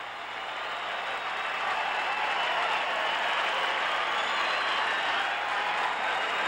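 A stadium crowd at a 1977 South Carolina vs Arizona State college baseball game roars and applauds steadily after a home run, a broad sustained wash of cheering heard from a distance, with no talking.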